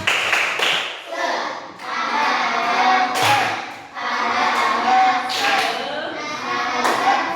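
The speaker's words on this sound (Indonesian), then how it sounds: "Tepuk semangat." A classroom of children performs a rhythmic spirit clap, bursts of patterned hand clapping alternating with loud chanted voices in unison, close and lively.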